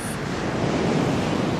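Wind and heavy waves rolling over dark open water, a dense continuous roar of surf and gusting air with no break, loud and close throughout.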